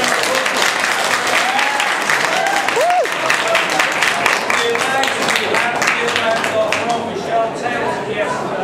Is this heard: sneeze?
no